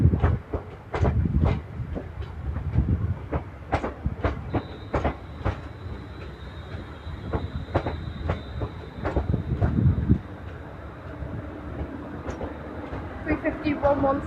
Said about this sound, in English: now arriving is 3:51:06, which is terminating here